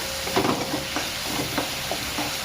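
Onion frying in oil in a pan for prawn masala, a steady close sizzle broken by several light stirring scrapes at an irregular pace, with no talking.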